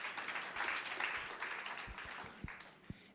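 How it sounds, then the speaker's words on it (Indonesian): A church congregation claps faintly and at a distance. The applause swells early, then thins out, with a few low thumps near the end. "Berikan tepuk tangan buat dia."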